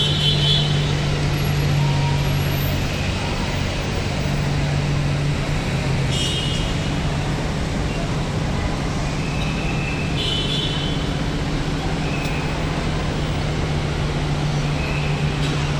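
Road traffic with cars and buses passing on a busy street in the evening rush, a continuous broad rumble with a low engine drone, faint higher tones drifting in and out, no talk.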